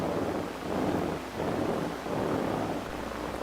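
Someone blows air onto a specimen in short, breathy rushes, three soft swelling bursts of low, windy noise close to the microphone.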